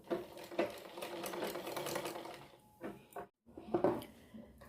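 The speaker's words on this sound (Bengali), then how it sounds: "এই সেলাইটার উপর দিয়ে দিয়ে গলাটা আমরা সম্পূর্ণটা আস্তে আস্তে করে সেলাই করে দেবো" Sewing machine stitching a paan-shaped neckline, slowly running along a neckband fabric strip. Close, steady whirring bursts, a short pause, then the stitching resumes.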